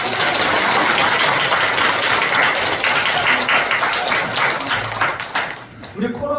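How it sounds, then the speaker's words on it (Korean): Church congregation applauding to encourage the choir after a hymn, loud dense clapping that fills the room and tapers off near the end as a voice begins. "우리 격려하며 박수하겠습니다."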